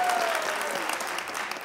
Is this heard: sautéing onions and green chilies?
no